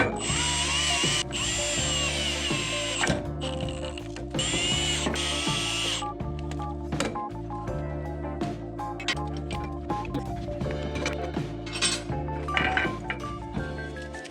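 A power drill stands in for an impact driver while working on potato harvest equipment, whining in loud sustained bursts of motor hum with stops and restarts, interspersed with ratcheting clicks and metallic knocks, close up and without speech.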